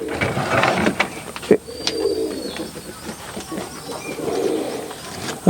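Rajshahi giribaj pigeons cooing in low, rounded bursts at a loft, near and moderately loud, with a few sharp clicks and faint background chatter between the calls.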